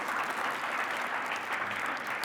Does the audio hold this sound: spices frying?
no